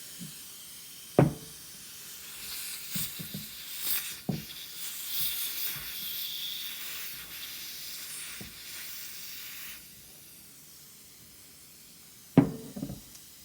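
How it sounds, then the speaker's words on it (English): A SodaStream CO2 relief valve hisses softly and continuously as excess gas escapes, faint and steady, with sharp clunks and taps from handling the bottle at the start and end. "This is the relief valve. Right now it's letting the extra CO2 out because we don't want to launch the valve when we open it."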